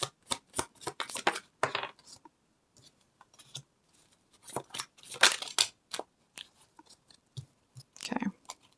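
Tarot cards being shuffled by hand in clumsy, uneven bursts of riffling and slapping, close and crisp, with brief pauses between attempts and no talking.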